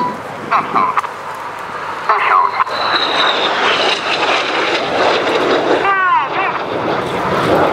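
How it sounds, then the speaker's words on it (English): Red Arrows jets fly the low Synchro pass at an air show, a rushing jet roar that swells and sweeps past close by, under a commentator speaking over a public address system. "Synchro are now closing at over 800 miles an hour, just 100 feet above the runway to perform the Synchro pass."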